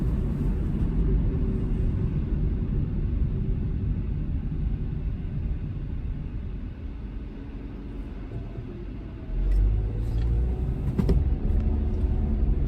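A truck on a long road drive, a steady low engine and road rumble heard from inside the cab, rising to a louder drone near the end with a few faint clicks.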